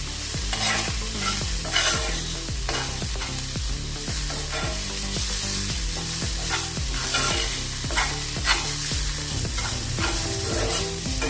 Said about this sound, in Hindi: ये देखिए अभी हमने अच्छे से इसको भून लिया है 1 मिनट के लिए